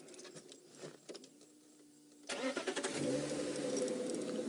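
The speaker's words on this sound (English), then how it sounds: "as we start the car" A safari vehicle's engine starts on a leopard drive: quiet bush ambience, a brief starter whine, then the engine catches and settles into a steady close idle with no talk.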